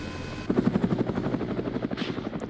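Helicopter in a military video game, its rotor thumping in a steady pulsing beat that swells in loudness partway through and carries on close and continuous to the end.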